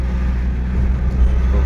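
A Mahindra Scorpio with a brake problem drives along, its engine giving a steady low rumble with road noise throughout, close and fairly loud, with no talking.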